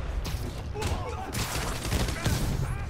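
Rapid bursts of enemy gunfire in a Spider-Man video game, dense and loud, with a person talking over the shooting throughout.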